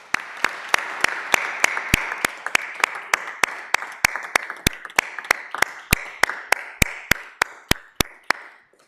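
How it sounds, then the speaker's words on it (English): Applause breaks out at a city council meeting: a steady run of about two dozen crisp, evenly spaced claps, close and fairly loud, with no talking over them. "I want to just give a round of applause to Councilor Gentile for his hard work"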